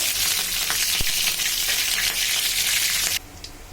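Green chilies fry in hot oil while being stirred for mustard hilsa, a loud, steady close sizzle with light scraping and a single sharp knock, cutting off abruptly near the end into near silence.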